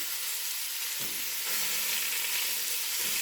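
Sausage sears in a hot pan with a loud, continuous close sizzle and a few soft shifting sounds, and no one talks.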